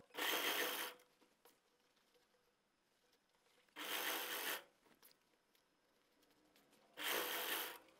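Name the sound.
sewing machine stitching elastic into trouser waistband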